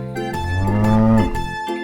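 A cow moos in one long, loud, clear low call filling most of the moment, set among a farm scene of animals being washed.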